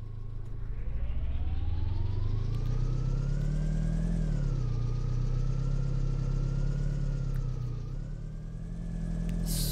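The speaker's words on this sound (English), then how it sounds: "Alright, up in my old car." A car engine in Farming Simulator 19 runs steadily near idle, with a low drone that rises and dips slightly as it revs gently, heard close and alone.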